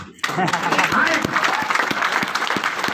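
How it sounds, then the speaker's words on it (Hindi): Audience applause at an AWPL motivational training session, steady rhythmic clapping from a crowd with a voice talking over it throughout. "ताली बज रही है ना"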